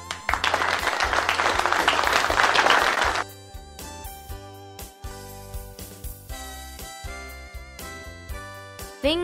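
Hands clap in a quick, dense burst like a small round of applause for about three seconds, then give way to a light, tinkling musical melody with soft plucked notes.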